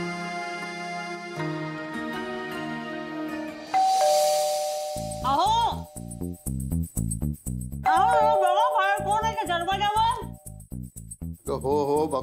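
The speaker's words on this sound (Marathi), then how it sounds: "ती बिल्डिंग मधली मुलं असतील ना, परत बेल वाजवत" An apartment doorbell rings with a two-tone chime that repeats as it is pressed again. The chimes come through clearly amid indoor voices and music from a Marathi TV serial.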